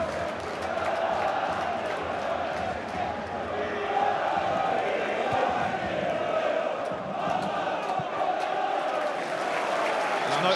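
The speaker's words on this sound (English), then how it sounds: "You can hear the crowd just starting to get involved" Football crowd at a Carlisle v Leeds League One play-off semi-final, a broad distant roar of massed voices building steadily beneath commentators talking throughout.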